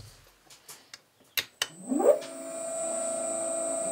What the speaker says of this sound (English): It's the motor running.